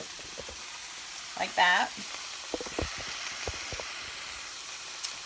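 Asparagus spears with trimmed ends hitting a hot pan give a steady background sizzle, with a brief louder burst as they land, scattered light clatter, and a few short spoken words over the frying.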